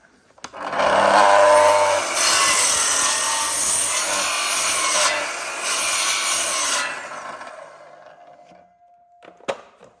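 Hand saw cutting a tenon shoulder in an oak post: loud, close rasping strokes for about six seconds with brief pauses, then a fading scrape and a faint knock.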